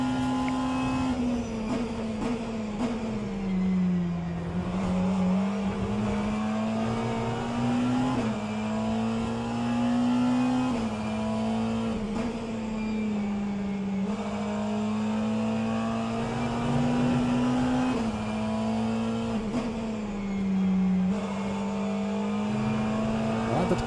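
Race car engines drone steadily throughout, including a Porsche, in a sim racing endurance event with McLaren cars, with a sustained rising and falling pitch as they lap continuously at close range, loud and unbroken, with no talk.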